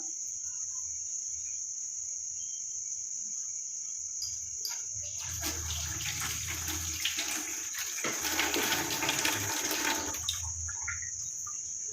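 Water from a tap runs as hair dye is washed off hands, a rushing splash that swells in over a steady insect-like whine, holds for several seconds, then fades.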